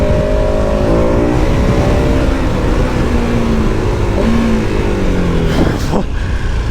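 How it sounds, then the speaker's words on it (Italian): A KTM 1290 Super Adventure S motorcycle with 160 horsepower powers hard in third gear, its rear wheel spinning. The engine roars loud and close the whole time, with rising, shifting tones and a brief sweeping squeal near the end. "Però si frena la ruota davanti e sentite come sgomma poi."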